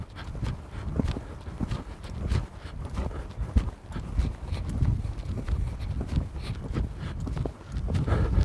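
Horse hooves clip-clop in a steady walking rhythm on soft ground, continuous and fairly close, with no talking.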